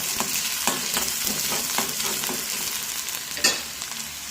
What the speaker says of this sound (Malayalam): പച്ചമുളക് എരിക്ക് വേണ്ടി ഒന്ന് ഇളക്കി കൊടുക്കാം